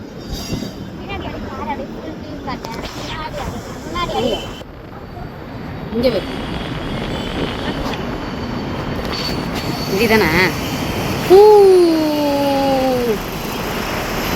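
A metro train rolls along its rails with a steady rumble and clatter, wheels squealing loudly near the end as the car runs close by.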